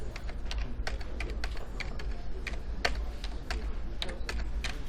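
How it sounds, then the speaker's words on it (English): Steady typing on a computer keyboard, a quick irregular patter of close keystrokes that runs throughout with no talk. "I don't know what I'm typing"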